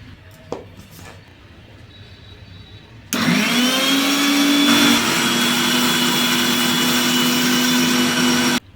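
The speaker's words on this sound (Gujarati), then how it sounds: "પ્યોરી બનાવવા માટે અહીં મેં મિક્સર જાર લીધેલી છે તેમાં પ્યોરી બનાવશું" A mixer grinder jar blends spinach with a little water into puree. It is quiet at first, then the motor starts abruptly with a loud, high whining roar that holds steady and stops at the end.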